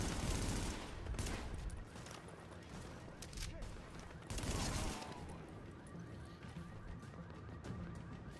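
Dense, continuous gunfire in The Division during a firefight on stairs, bursts layered into a loud sustained barrage with a brief lull before it swells again, with faint voices mixed in.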